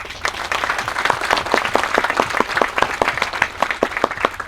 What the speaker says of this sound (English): they deserve a round of applause from all of us